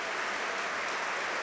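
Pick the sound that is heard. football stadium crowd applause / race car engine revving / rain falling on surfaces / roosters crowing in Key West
football stadium crowd applause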